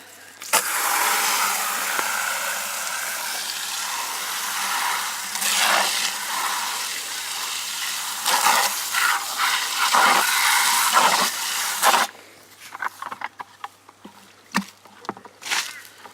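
Water runs and splashes inside an emptied plastic compost bucket outdoors as it gets a second rinse, a steady rushing pour lasting about twelve seconds, then breaking into scattered drips and knocks.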